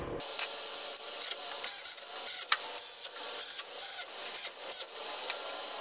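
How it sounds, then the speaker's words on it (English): Bolts are tightened on a 1972 Dodge Challenger 340 radiator with a rapid, close, rasping ratchet-like buzz in choppy bursts of uneven length, and no voices. "We'll go ahead and tighten them down."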